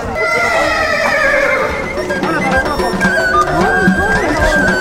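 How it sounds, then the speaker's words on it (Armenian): An aggressive, biting horse neighs loudly in several wavering whinnies up close, with people and children talking around it. "Ձին շատ ագրեսիվ ու կծան է։"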